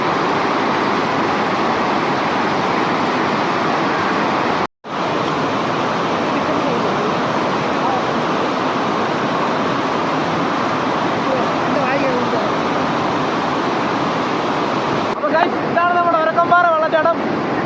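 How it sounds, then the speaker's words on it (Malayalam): Urakkanpara waterfall near Chungappara in Pathanamthitta pours with a constant loud, dense roar of falling water heard up close, broken by one brief dropout; faint voices rise near the end. "എങ്ങനെയുണ്ട് നമ്മുടെ വെള്ളച്ചാട്ടം അടിപൊളി"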